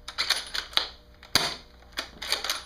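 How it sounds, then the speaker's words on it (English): A DBoys Kar 98 bolt-action airsoft rifle cycling its bolt to eject shells, a series of sharp, close mechanical clacks and snaps in irregular clusters with brief pauses between them. "it is very satisfying to eject shells from this gun"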